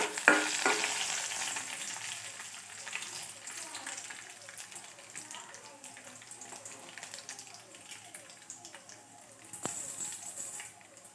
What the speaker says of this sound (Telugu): పోపు దినుసులు అన్నీ వేసేసుకొని బాగా వేయించుకోవాలి.